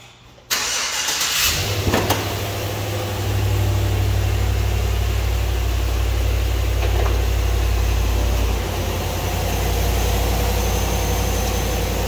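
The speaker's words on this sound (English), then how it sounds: "I will fire this van up for you now so you can have a listen." A 2018 Chevy Express van engine cranks and fires up after a short silence, then settles into a steady, loud, low idle that holds to the end, with no talking.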